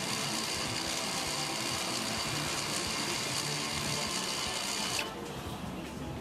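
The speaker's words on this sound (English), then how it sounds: "The EPB module will cycle the parking brake several times during this test." Electro-mechanical parking brake module cycling the rear parking brake during a test, with a close, steady whirring motor buzz that runs continuously for several seconds, then drops to a quieter hum.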